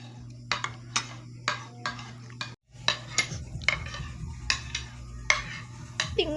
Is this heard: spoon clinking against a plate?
yes